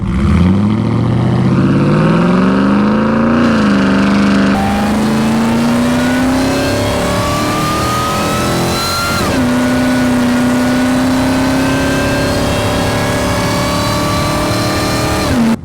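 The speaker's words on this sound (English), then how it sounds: "I don't know if I've been in a vehicle that's been this aggressive when it comes to an exhaust note" A deep, loud exhaust from a supercharged 5.4-litre 1999 Ford Lightning pickup revs up and holds a steady aggressive drone, rising in pitch, then settles into a sustained roar with a brief dip midway.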